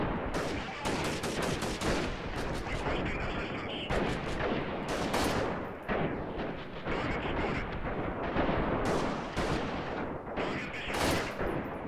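Sustained, dense video game gunfire during a firefight, with rapid automatic bursts and overlapping shots running almost without pause at high, loud level, with brief gaps between volleys.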